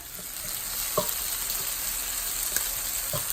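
Shrimp fry in a pan for tacos with a steady, crackling sizzle. A few louder pops stand out against the constant hiss.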